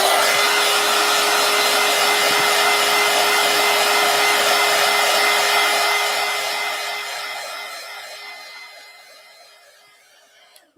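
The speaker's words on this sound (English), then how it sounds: "let's hit it one more time with the heat gun" Heat gun blowing hot air over a paper collage, a loud steady electric fan roar with a constant whine that holds for several seconds, then fades as it is moved away and clicks off at the end.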